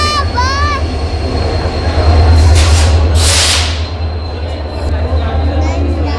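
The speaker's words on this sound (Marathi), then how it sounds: "ट्रेन जात" A train rushes past nearby with a loud, swelling rumble and rushing hiss, peaking midway, while a voice briefly sounds at the start.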